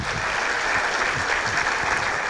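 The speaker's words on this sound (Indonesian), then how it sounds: "Iya tepuk tangan boleh." Studio audience applause on an Indonesian talk show, a steady dense wash of clapping filling the whole moment at moderate loudness with no break.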